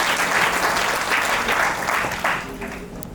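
Applause at a retirement ceremony in an office gathering: a room of people clapping steadily and fairly close for about three seconds, thinning toward the end as a voice begins speaking over it.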